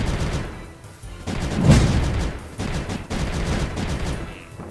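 Turrets in Creeper World 3 fire at a monster in a dense, continuous barrage of crackling gunfire-like volleys, loud and close, with several brief dips between bursts.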